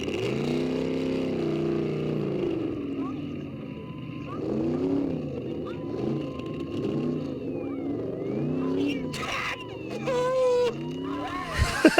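A car from a 1970s movie scene, its engine roaring and revving steadily in the foreground with shifting pitch, while a woman yells and a few brief high tones cut through near the end.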